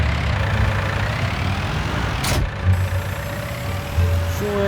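John Deere tractor engine in Farming Simulator 19 runs at a steady, fairly quiet drone throughout, with a brief sharp burst partway and a slight rise in pitch near the end.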